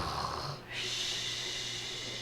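A voice imitates an ogre snoring, giving a long, breathy, rasping snore with a short break partway through, close to the microphone and heard alone.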